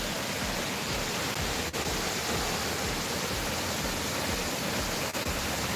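The Shimojo waterfall at night, a steady loud broadband roar of falling water that continues unbroken and close, with no voices.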